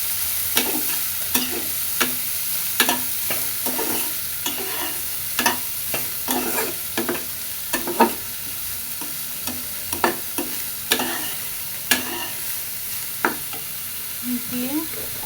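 Bitter gourd pieces and green chillies fry in oil under a constant close hiss, punctuated every second or so by sharp scraping clicks of a spatula stirring them around the pan.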